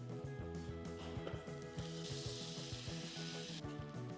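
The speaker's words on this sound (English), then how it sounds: "We have to melt the butter." Butter for a flour-and-butter sauce sizzling steadily in a pot over low heat, with a continuous crackling hiss under a background of repeating music.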